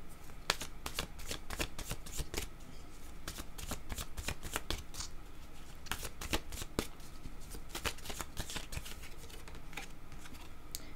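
Tarot cards are shuffled by hand up close, a quiet run of quick riffling bursts and soft flicks repeating steadily with short pauses between.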